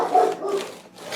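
A craft blade is drawn across a board to score it while a large scrapbook album is being made, giving a close, continuous rasping scrape that rises and fades over about a second.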